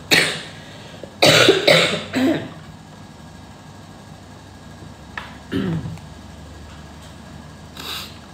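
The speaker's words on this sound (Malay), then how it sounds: "Kejap, nak kena batuk." Several close coughs come in short bursts, with quiet pauses between them and a final cough near the end.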